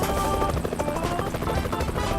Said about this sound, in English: There's a freaking helicopter.